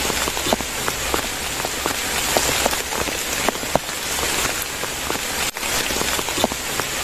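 Heavy rain pours steadily at a solo camping site in wind, with a dense continuous hiss and scattered louder drops pattering on nearby surfaces. The rain is loud and close, with one brief dip near the end.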